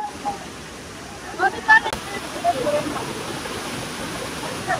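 A waterfall on a trip in Sylhet, Bangladesh, rushes as a steady broadband roar throughout, with voices and splashy bursts of people playing in the water rising briefly over it.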